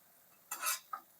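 Fish fry masala stirred in a pan: two short scraping strokes, the first longer and louder, the second a brief clink, heard close with no voices.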